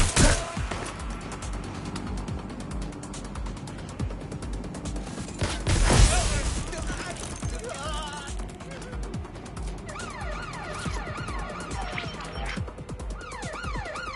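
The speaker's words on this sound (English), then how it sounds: "Gunfire!" Video game gunfire in Watch Dogs: bursts of shots and a heavy blast crackle amid sirens and mechanical game sounds, loud and busy over the whole stretch.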